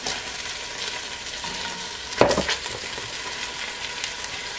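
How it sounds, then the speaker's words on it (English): Sausage hitting hot olive oil in a pan for rabbit gumbo, a steady close sizzle with a brief louder burst of frying and stirring midway. "our oil is heated up here, and we're gonna add our sausage"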